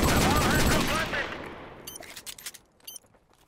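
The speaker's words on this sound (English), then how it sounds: "That's how you use a Deagle." A heavy burst of gunfire from a Desert Eagle pistol in Modern Warfare Remastered hardcore Search and Destroy opens loud and dense, then decays into scattered sharp shots and clicks with a faint voice beneath.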